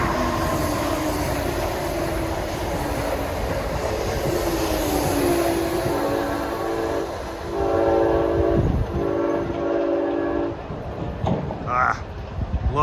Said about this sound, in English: About to pass at 12:58 is Amtrak 171 from Boston all the way to Roanoke, Virginia.